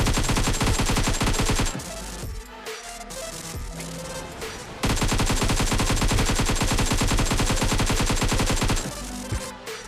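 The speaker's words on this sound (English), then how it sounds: "Now try to scope in while firing." Rapid automatic gunfire from a rifle in the mobile game PUBG Mobile while aiming down the scope, long loud bursts of evenly spaced shots with a brief pause near the middle before firing resumes.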